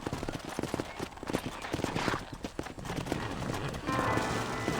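Horse hooves clip-clop in the Red Dead Redemption video game, a close and continuous rhythmic patter of several horses with a little faint background noise.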